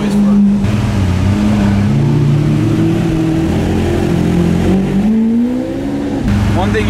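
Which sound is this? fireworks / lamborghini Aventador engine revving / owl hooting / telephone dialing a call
lamborghini Aventador engine revving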